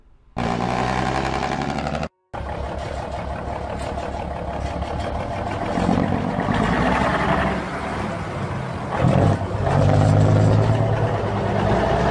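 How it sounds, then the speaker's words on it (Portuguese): A heavy diesel truck engine runs loudly and steadily, its rumble swelling now and then as the revs rise, with no voices. "um caminhão pesado que se tornaria uma lenda das estradas, com seu estilo e o som inconfundível do motor"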